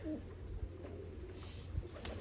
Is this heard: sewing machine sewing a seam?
no